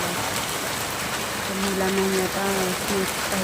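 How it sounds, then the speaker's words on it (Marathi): Heavy rain roars steadily and densely, with a voice faintly heard partway through beneath the downpour. "किती मोठा पाऊस आला"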